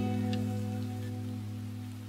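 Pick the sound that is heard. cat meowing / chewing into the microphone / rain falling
rain falling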